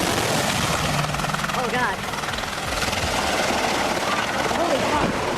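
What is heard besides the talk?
US military helicopter crashing during low-altitude flight training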